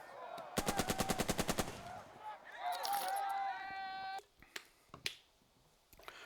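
Gunfire in the video game Burden of Command: a rapid burst of about ten loud, evenly spaced shots, followed by sweeping game effects and a few scattered single reports.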